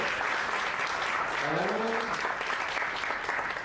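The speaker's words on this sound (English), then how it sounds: "Give applause." Audience at a business talk applauds in a steady, dense wash of many hands clapping that holds at an even level throughout, with a brief vocal sound rising through the middle.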